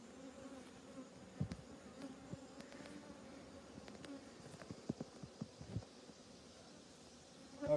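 Honey bees buzz steadily around two open hives during an inspection, a continuous drone with brief sharp knocks and bumps from hive handling, no talk.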